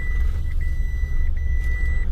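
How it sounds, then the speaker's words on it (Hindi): Inside a new Mahindra Bolero facelift (B8) while driving, a loud, steady low engine rumble fills the cabin, with a thin repeating beep tone running above it. "तो इंजन नॉइस अभी गाड़ी जैसे चल रही है ना तो इंजन की पूरी नॉइस गाड़ी के अंदर फील हो रही है"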